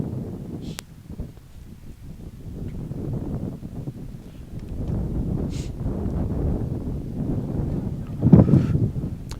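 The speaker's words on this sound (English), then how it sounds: "it's a very windy day right now. A lot of wind up here" Strong wind sweeps across an outdoor track field during a high school senior-night meet, a continuous low roar and rumbling microphone buffeting that swells louder toward the end, with sharper gusts breaking through and no voices heard.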